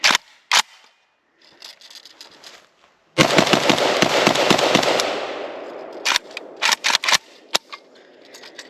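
Romanian WASR-3 AK rifle in 5.56 NATO firing at a damp outdoor range: a loud rapid burst of about a dozen shots, then several separate sharp reports with short gaps, preceded by faint mechanical handling noises.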